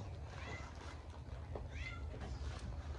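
A cat belonging to James gives a couple of short, faint meows amid a murmur of background voices and indoor ambient noise.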